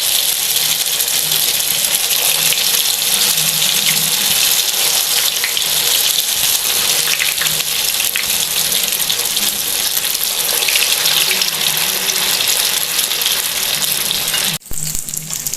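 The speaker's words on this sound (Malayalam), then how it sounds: "ഓരോന്നായിട്ട് നമുക്ക് ചൂടായ എണ്ണയിലേക്ക് ഇട്ട് കൊടുക്കാം" Potato bread rolls fry in hot oil, a loud continuous sizzle and crackle that runs steadily close by and ends with a brief clatter.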